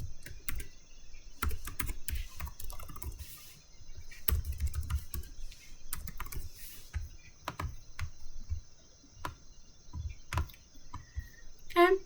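Steady run of computer keyboard keystrokes, close and clear, as text is entered into a design program, with irregular bursts of quick clicking and brief pauses between words.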